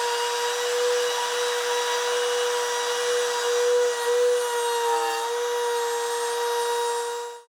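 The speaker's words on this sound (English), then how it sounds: "you want to take a couple of passes to go through the wood rather than just doing one big plunge straight" A power tool routes through a wood block for a surfboard fin box, a loud, steady high-pitched whine with a strong tonal hum, continuous for several seconds before cutting off abruptly.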